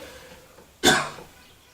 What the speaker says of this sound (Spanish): Le pedimos al paciente que vuelva a toser.